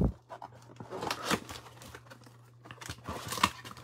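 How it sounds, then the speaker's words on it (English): Plastic wrap on a 2020 Topps Stadium Club trading card blaster box is cut and pulled open, giving close crinkling, scraping and tearing bursts with quiet gaps over a steady low hum. "I guess the knife didn't go through the plastic. You got to cut it."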